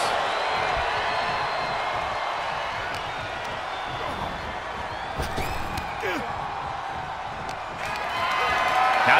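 Arena crowd noise in WWE 2K23 wrestling during a Friday Night SmackDown match, a steady bed of cheering and whooping with occasional slams and sharp impacts, and a commentator talking over it.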